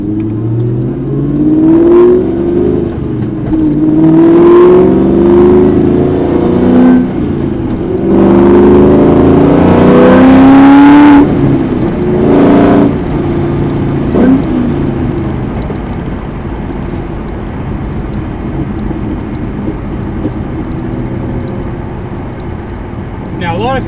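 A Sonic Blue Ford Mustang Cobra Terminator driving on the road, its engine rising and falling through gear changes with loud revving in the middle, then settling into a steady cruise as someone talks over it.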